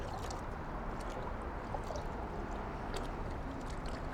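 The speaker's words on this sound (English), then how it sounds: "And I'm gonna agitate it in the bucket." A car wash mitt is swished and squeezed in a rinse bucket of water, making a close, steady churning slosh that is quiet and continuous for a few seconds, with no talk.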